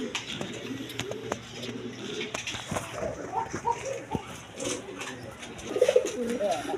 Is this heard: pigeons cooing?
yes